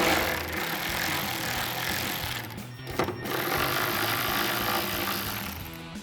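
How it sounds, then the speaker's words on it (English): A cordless ratchet spins an 8mm socket to remove the taillight bolts on a 2015–2017 Ford F-150, giving a continuous close mechanical whir with a brief pause partway through. "remove these two 8mm bolts using our 8mm socket with either your ratchet or cordless ratchet"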